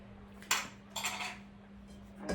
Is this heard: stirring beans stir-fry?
yes